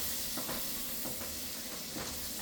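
Corned beef is stirred in a hot pan, giving a steady sizzle and hiss with soft, rhythmic scraping strokes every half second or so, with no talking.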